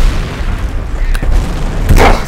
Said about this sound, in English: there's the grenade. Eat it. Eat the grenade.